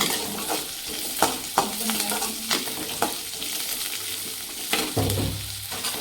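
Onions, cumin, pepper and curry leaves sauté in a pan for brinjal kuzhambu, a steady close sizzle broken by several scraping stirs of a spoon, with a low rumble near the end.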